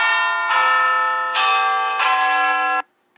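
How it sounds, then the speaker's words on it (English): A gong struck against a great stone dragon statue rings out in three loud metallic strikes, each bright tone sustaining and overlapping before cutting off abruptly near the end. "hit the great stone dragon with his gong"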